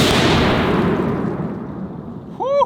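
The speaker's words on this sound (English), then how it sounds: "There's always such an adrenaline rush when you're about to shoot a 50 cal." A .50 BMG armor-piercing incendiary tracer round fired at a sledgehammer gives one loud, booming report that rolls off slowly, followed by a short whoop at the very end.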